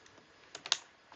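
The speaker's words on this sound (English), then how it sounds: "you see what I'm typing?" A few quick keyboard keystrokes click close to the microphone, a short burst of taps in quiet surroundings.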